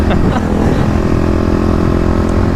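A Kawasaki KLX250 dirt bike slides around low corners, its engine a steady loud drone with a few brief revs near the start, heard close and constant throughout.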